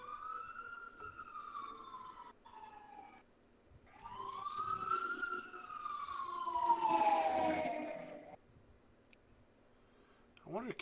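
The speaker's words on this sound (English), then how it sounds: "You guys are going to hear sirens here pretty soon." Fire department sirens wail in rising and falling sweeps from a nearby station, swelling louder as they pass and then fading, with a brief burst at the end.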